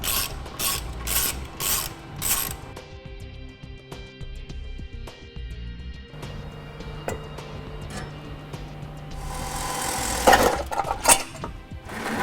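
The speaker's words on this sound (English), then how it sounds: "To make removing the other side exhaust a little bit easier, we're going to remove the 2 bolts right here and here" A ratchet wrench clicks rapidly while loosening exhaust bolts beneath a 2014 Nissan Altima, bursts of ratcheting alternating with metallic tool clinks and handling noises, close up with no talk.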